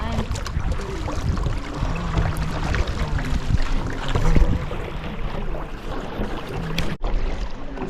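A kayak is paddled through the water of Katherine Gorge, with continuous splashing and sloshing close by, a broad rushing wash and occasional paddle strokes, loud and without speech.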